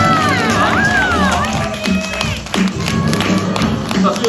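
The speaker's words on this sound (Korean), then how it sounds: "여러분들의 큰 박수와 함께" Audience applause at a children's magic show, broad clapping and cheering filling the room under an ongoing voice, with a steady wash of hands throughout.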